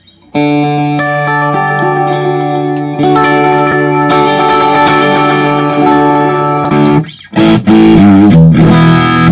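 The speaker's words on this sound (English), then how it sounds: "Big chime, EL84." Electric guitar through a Blackstar IDX DSP modelling amp on its big chime EL84 setting, with loud ringing sustained chords and a brief break near the end before the strumming resumes.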